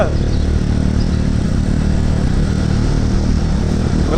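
Constant loud engine hum and wind rush from a motorcycle moving on the road to Gosaikunda, Nepal, steady throughout with no voices.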